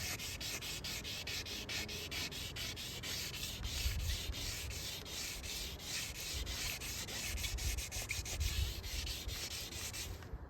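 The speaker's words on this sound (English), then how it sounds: "Gently rub it." A scrape on a car bumper is gently rubbed out by hand, giving a steady, rhythmic back-and-forth abrasive rubbing that continues for about ten seconds, close and fairly quiet with no speech.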